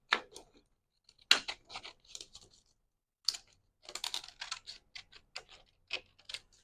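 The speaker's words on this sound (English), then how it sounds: "I'm just going to kind of cut randomly around the acetate here." Scissors snip randomly around leftover die-cut acetate sheet in quick, crisp clicks, close and fairly quiet, arriving in irregular bursts separated by short pauses.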